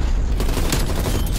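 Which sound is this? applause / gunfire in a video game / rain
gunfire in a video game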